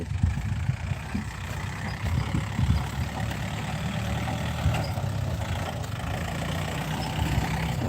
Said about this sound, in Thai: ขับรถไถ